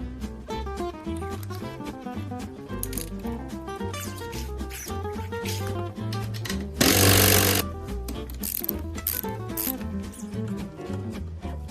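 A power drill whines and grinds through metal in continuous bursts, with a brief louder harsh blast partway through, drilling a 3.5mm hole through the shock pistons of a large RC car.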